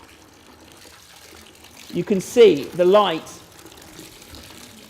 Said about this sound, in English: What happens, as I slosh more water on the stage, is the light remains trapped inside the stream of water.